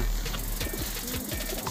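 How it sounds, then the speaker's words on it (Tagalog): Pet pigeons coo repeatedly nearby, soft low throaty calls in a rhythmic series over a steady background. "Ito yung mga ibon natin ha."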